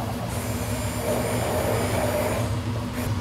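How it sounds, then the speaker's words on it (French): A kitchen blender pureeing sabayon with coffee infusion and sandwich bread: a steady, close motor whir with a high whine that runs for about two and a half seconds, then cuts out, with no talking. "Je vais le mixer."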